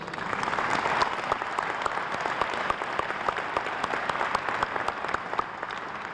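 An audience at a university sports legacy dedication breaks into sustained applause, dense overlapping hand claps filling the room at an even level for several seconds.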